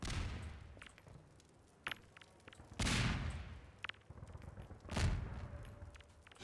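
Grenade explosions in the video game Half-Life 2, several deep booms spaced a second or so apart, the loudest two a few seconds apart, with gunfire-like cracks and a low rumble between them.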